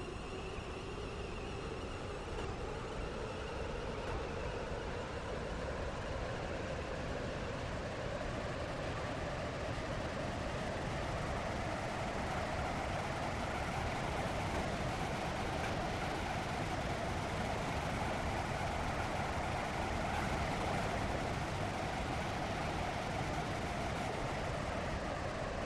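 A Class 350 train in Roblox SCR rumbles along continuously, a broad steady rolling noise with a slowly rising motor whine, heard alone at even loudness throughout.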